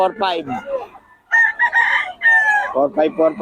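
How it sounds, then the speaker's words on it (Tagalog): Roosters crowing loudly and close by in Bocaue, Philippines, several long drawn-out crows overlapping one after another with clucking in between. "Ito na mga manok niya, oh."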